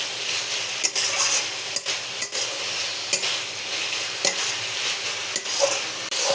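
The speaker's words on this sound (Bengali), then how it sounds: "এখন ভালো করে নাড়াচাড়া করে নেব, যাতে মশলার সাথে একদম মিশে যায়।" Chopped banana flower stirred with spices in a pan, a steady close sizzle punctuated by repeated sharp spatula scrapes and knocks against the metal, no voices.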